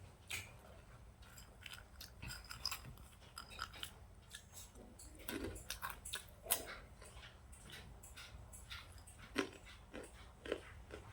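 Crunchy makhana (fox nuts) being chewed, a steady stream of soft crackling bites and munching close to the mouth, faint and continuous with brief louder crunches, no talking.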